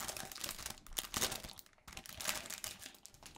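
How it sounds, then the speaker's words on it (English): Packaging for Bose QuietComfort 35 wireless headphones crinkled and handled during unboxing, with irregular close crackling, rustling and brief tearing bursts, a short pause midway, no speech. "And here's an unboxing."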